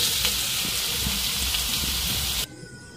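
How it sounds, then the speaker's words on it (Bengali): Potatoes fry in hot oil for ghugni, a loud, steady crackling sizzle that runs unbroken before cutting down sharply to a quieter hiss near the end. "আলুটাকে খুব ভালোভাবে ভাজবো যাতে আলুটা গলে যায়"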